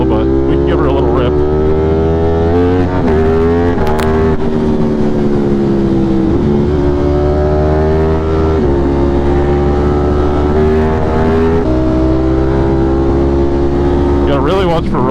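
A motorcycle on a chilly-tired ride along a back road revs hard and accelerates through the gears, its loud, close engine whine rising and dropping with each shift for the whole stretch.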